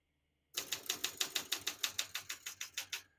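Keys strike on a 1965 Olympia SM9 portable typewriter, fourteen or so crisp, evenly paced clacks in a steady rhythm, close and clear after a moment of silence.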